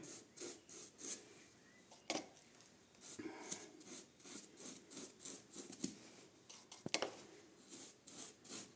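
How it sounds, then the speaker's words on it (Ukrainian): A cloth rubs back and forth across a surface, wiping off dust and dirt, in short, quiet strokes, irregular bursts of scratchy friction close by. "витираємо очищуємо від пилу та бруду"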